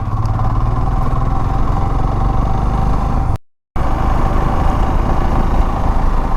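Motorcycle riding along a scenic road toward Ooty in Tamil Nadu on a hot day: a steady, loud engine drone with wind rush, close up, broken once by a brief silent gap before resuming.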